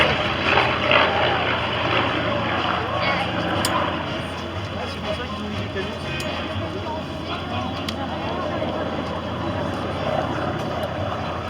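A Douglas Skyraider propeller aircraft drones steadily overhead at an aerobatics air show in Chateauroux, a broad, loud engine roar that fades slightly after the first seconds and holds on, with a commentator's voice faint beneath it.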